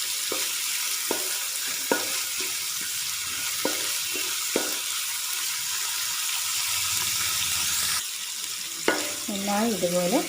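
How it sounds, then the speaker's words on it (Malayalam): Sliced onions fry in coconut oil for an egg dum biriyani, giving a steady sizzle with a few sharp stirring clicks, then water briefly runs from a tap near the end. "നന്നായി ഇതുപോലെ എണ്ണയിൽ വറുക്കുക."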